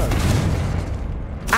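A Confringo fire spell blast from Hogwarts Legacy on PS5 lands as a loud, booming explosion that rumbles on for over a second, followed by a brief hiss near the end.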